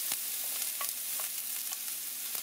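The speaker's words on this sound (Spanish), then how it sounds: "Para que se vayan sofriendo." Potatoes with chopped serrano chile and onion fry in a pan, a soft steady sizzle punctuated by a few light spatula taps and scrapes.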